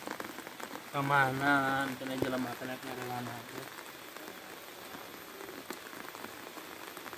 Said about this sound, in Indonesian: Jeung mah hujan. Gede deh.